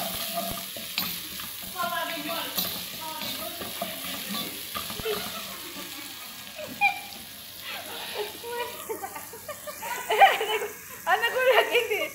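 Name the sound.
onion frying in cooking oil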